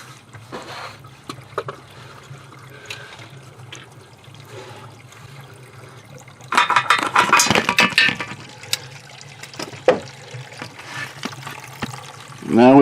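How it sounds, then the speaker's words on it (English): Engine coolant pours out of a 2019 Ford Edge 2.0 EcoBoost into a container, a soft trickle that turns into a louder, splashing gush midway, with scattered handling clatter and the occasional clunk. "Now we have the fluid pouring out and filling up"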